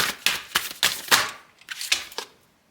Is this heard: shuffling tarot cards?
yes